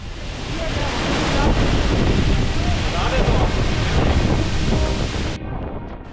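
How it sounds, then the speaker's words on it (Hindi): Rijji waterfall in Haveli District, Azad Kashmir, its water dropping about 200 feet at low flow, makes a steady, broad roar that holds loud and constant before cutting down sharply near the end. "आबशार के पानी के गिरने की आवाज आपको दूर से ही आना शुरू हो जाती है।"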